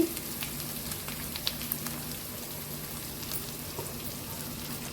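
Onions frying in a pan for a sweet corn chicken curry, a steady soft sizzle with scattered small crackles throughout, fairly quiet and close, with no talking.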